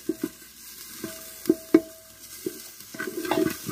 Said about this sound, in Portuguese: Agora você vai adicionar dois dentes de alho grande, tá?